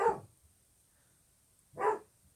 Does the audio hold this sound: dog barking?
yes